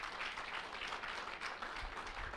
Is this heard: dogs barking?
no